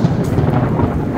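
Rolling thunder rumbles loud and continuous during a rainstorm in Mecca, the heavy low roar mixing with the hiss of falling rain.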